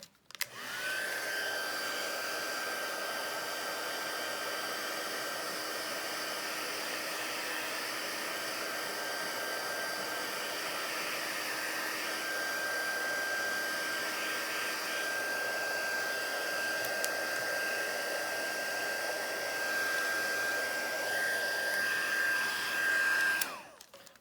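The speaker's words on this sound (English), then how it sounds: "let's go ahead and heat set this also" A heat tool blows hot air to set alcohol ink on a card, a steady whining fan roar with a thin high tone that holds for over twenty seconds, close and constant, then cuts off.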